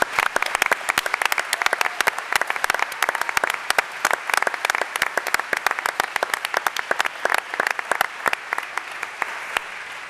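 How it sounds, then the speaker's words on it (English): A modest group at a school board meeting gives a round of applause for standing parents, with distinct individual claps close by in a brisk, uneven rhythm that thins toward the end. "we give you a round of applause too"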